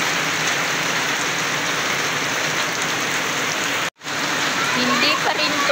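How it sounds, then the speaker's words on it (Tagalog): Steady heavy rain pours on surfaces at a rural spring resort in farmland, a dense continuous hiss that briefly cuts out once, with no talk. "Hindi pa rin tumitila po yung ulan."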